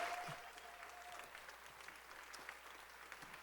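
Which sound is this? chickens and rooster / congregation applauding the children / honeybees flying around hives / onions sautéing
congregation applauding the children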